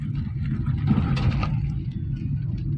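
A car engine hums low and steady while driving slowly in a driving lesson, a muffled in-cabin rumble with a brief louder swell in the middle.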